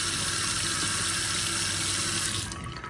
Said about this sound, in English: anytime you're calling for demand on the hot water heater, it is putting out hot water